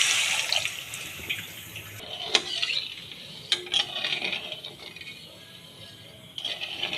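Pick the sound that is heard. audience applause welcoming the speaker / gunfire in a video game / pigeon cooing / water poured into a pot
water poured into a pot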